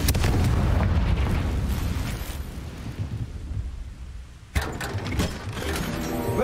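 A Confringo blasting spell exploding in Hogwarts Legacy: a loud, rumbling blast that fades into quieter mechanical rattling, then a sharp second hit followed by renewed crackling rumble.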